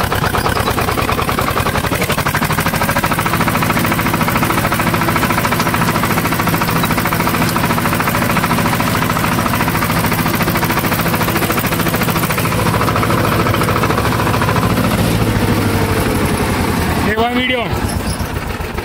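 A Swaraj 724 tractor in first gear pulls a 6x6 disc harrow, its engine rumbling loud and steady throughout with a brief surge near the end, while someone talks over it.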